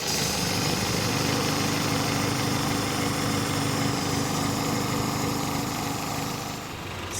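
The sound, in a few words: Honda CR-V engine running with a wobbling harmonic balancer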